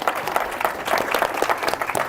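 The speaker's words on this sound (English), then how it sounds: "I don't think that's clap worthy" A small audience claps for a couple of seconds, the applause steady and moderately close with no voices over it.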